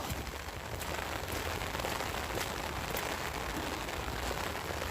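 Steady rain falls outdoors on a summer day among blooming hibiscus, a dense, even hiss of drops on surfaces that continues without a break and with no voices.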